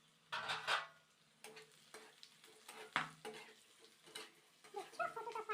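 Fish fat fries in a covered pan over low gas, sizzling quietly with bursts of crackling and sharp pops at irregular intervals, growing busier toward the end.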